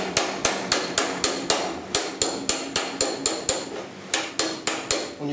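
Sharp metallic hammer-on-dolly blows stretching welds in rust-repaired upper cowl sheet metal on a 1969 Chevy C10, about twenty evenly spaced ringing strikes, loud and close, with no talking.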